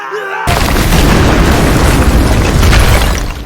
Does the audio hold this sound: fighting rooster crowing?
no